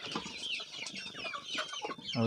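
Gramalakshmi native chickens clucking in a busy cluster of short, overlapping calls against a noisy farmyard background, with no talking.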